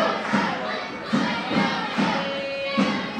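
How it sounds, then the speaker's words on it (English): A wrestling event crowd roars and cheers loudly during a championship match, with repeated surges of shouting and thumping impacts every half second or so over a constant din. "This crowd is obviously losing their shit"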